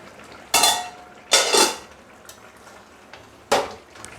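A metal lid is set down on a pot of hilsa fish curry cooking with five kinds of vegetables, making three separate clanking knocks spaced over a few seconds, with no talking.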